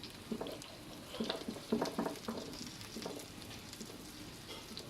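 Chicken pieces fry with salt in a pan, an irregular sizzle with soft stirring scrapes and bursts of crackle, close and moderately quiet with no talking.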